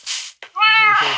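A Minecraft cat meows once, close and clear, a short rising-falling call that follows a couple of brief game clicks.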